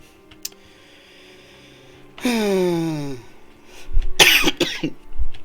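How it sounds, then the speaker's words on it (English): A brief cough bursts out after a long, rising throat sound, with a few more harsh coughs and clearing noises following, close and fairly loud. "Cough break"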